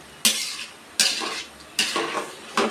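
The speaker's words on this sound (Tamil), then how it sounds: "அரிசி போட்டாச்சு. இப்போ நல்லா ஒரு தடவை கிளறி விட்டுருவோம்," A ladle stirs rice in a cooking pot for a medicinal rice dish, scraping and clinking in four distinct strokes about a second apart, close and fairly loud, with no talking.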